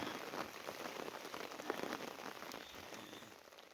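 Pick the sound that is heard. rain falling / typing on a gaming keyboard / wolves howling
rain falling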